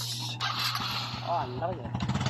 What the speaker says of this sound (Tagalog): Quick start ang agad ang motor.